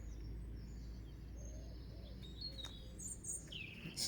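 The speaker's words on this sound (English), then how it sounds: "getting some birds through into the garden" Morning birdsong in an English farm garden by barns shaded by oak and beech trees: faint, scattered chirps and tweets over a steady low rumble, growing a little busier toward the end.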